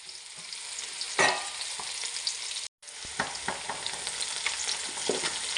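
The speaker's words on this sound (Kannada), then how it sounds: "ಚೆನ್ನಾಗಿ ಫ್ರೈ ಮಾಡಿ." Cashews, raisins, peanuts and onion with turmeric, black pepper and cloves fry in a pan with a loud, close sizzle. Repeated stirring scrapes run through it, and there is a brief cut to silence partway through.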